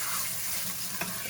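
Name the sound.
anchovies, garlic and capers sizzling in olive oil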